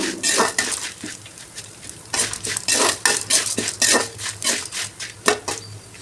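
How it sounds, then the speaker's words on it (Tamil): Dried red chillies sautéed in a pan, heard as repeated loud scraping and clattering of a utensil against the pan, with a soft sizzle underneath. "வரமிளகாயும் போட்டுக்கலாம் நல்லா கொஞ்சம் வதக்கணும்"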